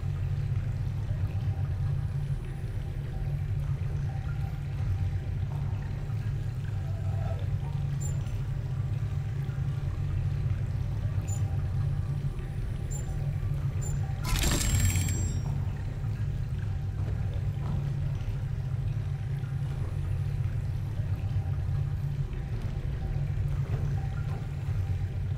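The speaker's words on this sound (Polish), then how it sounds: "Woda się podnosi." Water rising in a basement in the puzzle game The Witness gives a constant low churning rumble, with one short rushing surge partway through, heard alone.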